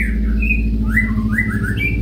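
A long-tailed white-rumped shama gives short rising whistled calls and chirps, several brief notes close by over a loud steady low hum.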